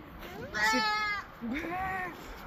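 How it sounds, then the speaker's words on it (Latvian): Goat bleating at Sigulda Zoo in Latvia: two wavering bleats, one after the other, close and fairly loud, with faint background noise between them. "Kā kaziņa saka?"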